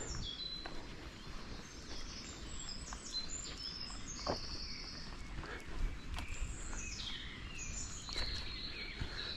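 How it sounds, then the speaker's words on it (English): Birds sing in sunny woods at the top of a walking trail, with scattered high chirps and short calls over a steady outdoor background, fairly distant and moderate in level. "Birds are singing."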